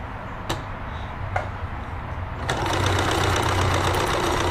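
A Necchi 525FA sewing machine running a triple straight stretch stitch, with a few isolated clicks before the motor starts into a steady, close, rapid mechanical whir.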